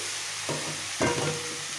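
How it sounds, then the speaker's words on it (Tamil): Cabbage stir-fry with salt being stirred in a pan, two short scraping strokes over a low steady frying hiss, close and fairly quiet with no talk. "நல்லா ஒன்று போல் உப்பு சேர்த்து கிண்டி விட்டு"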